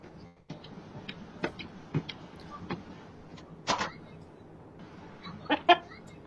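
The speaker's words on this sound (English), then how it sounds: "Here comes the chicken." Chicken clucking in short, scattered bursts over a quiet background, with a few louder clucks near the end of the clip; occasional faint ticking sounds also appear between the calls.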